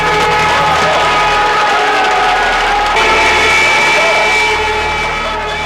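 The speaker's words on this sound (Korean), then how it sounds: "종소리가 울리자 시민들은 박수로 화답했다." A large crowd of Seoul citizens claps and cheers in response to bells at a 1987 pro-democracy protest, a dense, steady roar with traffic noise mixed into the background.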